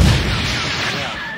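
A rocket combo explosion in the video game Blox Fruits: one loud, close boom opens the moment, then settles into a long, roaring rumble that slowly fades.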